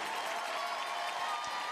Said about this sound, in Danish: stående klapsalver får hun også for publikum